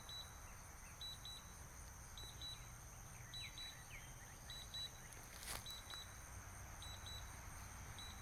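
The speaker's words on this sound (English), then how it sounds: "So, you hear that beeping?" Pairs of short, high electronic low-battery beeps from an EGO Z6 electric zero-turn mower repeat at a steady pace, fairly faint, over a constant background hum with occasional bird chirps.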